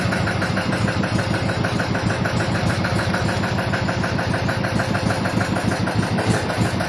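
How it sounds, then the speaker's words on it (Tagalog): A boat's motor runs steadily at high load against a strong current off Palawan, a loud, close, continuous throbbing drone with no break. "At tinalalayan nga namin ang andar ng makina at malakas ang agos"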